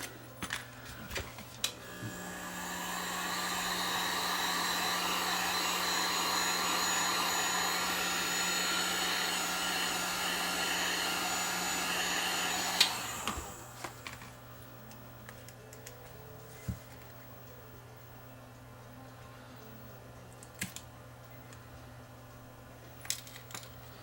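A heat gun blows steadily on the glass back of a Samsung Galaxy S9 to soften the adhesive for a battery replacement, a loud continuous hiss lasting about eleven seconds before cutting off, followed by faint handling clicks.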